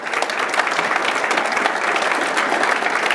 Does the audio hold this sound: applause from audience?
yes